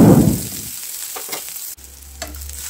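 Finely chopped onion frying in oil in a pan for a chiyali dish, a loud burst of sizzling as the onion goes in that quickly settles to a softer crackle with a few stirring scrapes.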